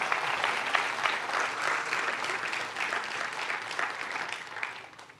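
A church congregation applauds at a worship service, a steady dense wash of clapping that holds evenly and fades slightly at the end.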